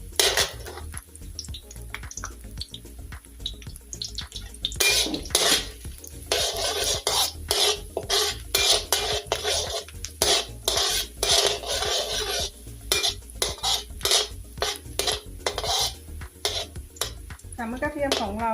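Busy clattering and scraping of a utensil against a pan while stir-frying chopped garlic, rapid irregular metallic knocks and sizzle-like rasps, close and steady throughout.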